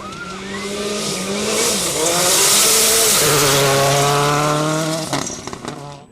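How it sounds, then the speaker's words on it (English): A Rally Technic Mazda 2 rally car blasts through a high-speed section of the Algoa Rally, its engine loud and rising through gears as it passes close, then cutting off abruptly with brief rattles. "First up would be rally leaders Chris Kutzer and Matt Kohler in the Rally Technic Mazda 2"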